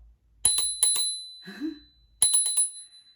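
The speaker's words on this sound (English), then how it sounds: "there's a little piece right here, and it has a bell." The small handlebar bell on a Jetson Quest electric scooter rings close up in two quick sets of bright metallic dings, three or four strikes each, with a soft rattle between them.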